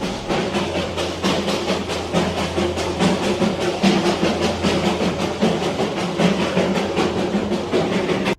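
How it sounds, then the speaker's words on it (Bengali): Darjeeling toy train running at Batasia Loop, a steady close rhythmic clickety-clack of wheels on rail joints with a continuous low rumble throughout, no voices. "বাতাসিয়া লুপ থেকে ঘুরে আমাদের ট্রেন প্রবেশ করলো"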